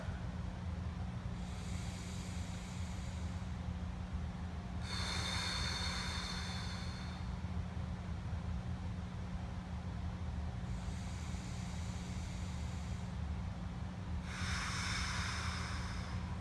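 Deep belly breaths drawn in through the nose, four long airy inhales spaced evenly over a low steady background hum, close and alone with no talking.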